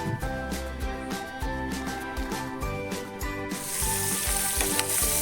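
Onion sizzles steadily as it lightly fries in oil in a Goan home kitchen, a loud close hiss with occasional stirring clicks and a brighter surge of frying near the end, no talking.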